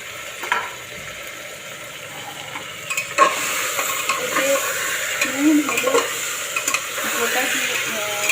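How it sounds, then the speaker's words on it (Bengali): Chicken pieces sizzle steadily in a pan with salt, turmeric, cumin powder, coriander powder, green chillies, ginger and whole onions, while a spoon stirs and scrapes in irregular bursts over continuous frying hiss, close and fairly loud. "নুন, হলুদ, জিরে গুঁড়ো, ধনে গুঁড়ো, কাঁচা লঙ্কা, আদা আর গোটা পেঁয়াজ দিয়ে মাংসটাকে আমি কষতে দিলাম।"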